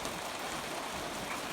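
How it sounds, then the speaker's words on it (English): Light rain falls over a hayfield as a steady, even hiss with no talking. "Well, a little rain is good."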